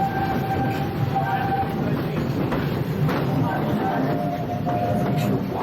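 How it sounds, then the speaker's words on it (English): Walt Disney World Railroad train at Magic Kingdom, heard from on board: a steady rumbling roll with rail clatter and faint squeals, continuous and close throughout. "I'll stay safe and sound right here aboard my train"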